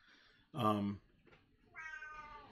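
A house cat lets out two meows, a loud, close, drawn-out first call followed by a softer, longer second one after a short pause.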